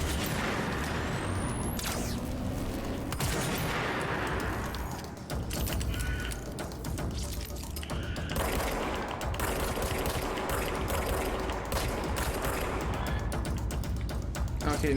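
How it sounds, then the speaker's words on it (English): Sustained weapon gunfire from the video game Control: dense, continuous bursts and booms over a busy game soundscape, loud and unbroken for the whole stretch, with a brief dip midway. "now time to test out my new weapon"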